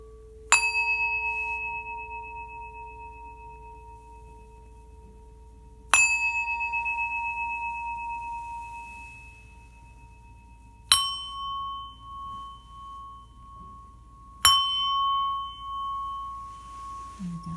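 A Tibetan singing bowl is struck four times at slow, uneven intervals, each strike a bright metallic ring with sustained pure overtones that decay gradually, heard close and alone.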